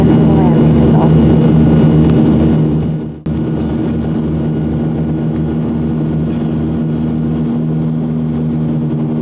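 A small plane flies toward Dawson in the Yukon with a loud, close, droning engine. The drone dips abruptly partway through, then carries on as a steady hum with a persistent tonal whine.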